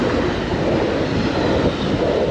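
Train passing close by near a bridge in Denmark, a loud, steady, broad rushing roar that fills the whole moment without a break.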